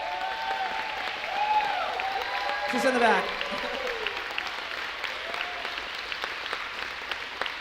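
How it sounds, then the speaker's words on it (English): A crowd at a big band finale performance gives a round of applause for an honoree, a broad, steady wash of clapping with a voice speaking briefly over it. "let's give a round of applause to Lois Masteller."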